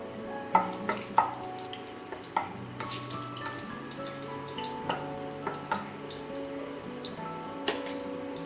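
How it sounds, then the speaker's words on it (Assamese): Cloves, cardamom and cinnamon frying in hot oil in a home kitchen, a soft crackle broken by a string of sharp pops and taps at irregular intervals. "প্ৰথমতে লং ইলাচি ডালচেনিখিনি দি দিছোঁ,"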